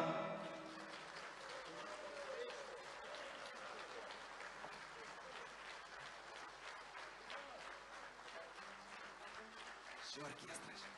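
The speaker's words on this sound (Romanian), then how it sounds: "Aplauze pentru cântare!" Audience applause at a folk music gala recital in Suceava, following a folk song duet with orchestra; dense, sustained clapping fills the whole stretch at steady loudness with crowd murmur beneath.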